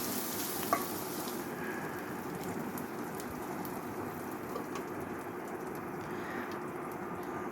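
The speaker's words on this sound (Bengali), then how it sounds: "চিংড়িটা আসলে বেশি ভাজবো না, চিংড়ি আবার বেশি ভাজলে চিংড়ির যে স্বাদটা সেটা থাকে না" Shrimp seasoned with turmeric fry in a pan with a dense, even sizzle like light rain, steady and close throughout, with one brief click near the start and no speech.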